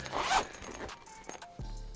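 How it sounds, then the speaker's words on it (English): Zipper on the main compartment of an Alpaka Bravo Sling Mini camera sling bag, one quick, loud rasping pull close up, followed by quieter handling noise. "The main compartment, again, those gorgeous zippers"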